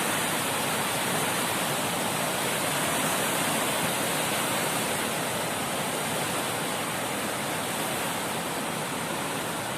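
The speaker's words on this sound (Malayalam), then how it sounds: "ഇവിടെ നമുക്ക് വെള്ളച്ചാട്ടത്തിൻ്റെ സൗണ്ടൊക്കെ ഇവിടെ നിന്ന് കേൾക്കാം." The 56 Kuthu waterfall at Painavu in Idukki, Kerala, running low on water, gives a steady, dense roar of falling water heard from nearby, with no break or other sound.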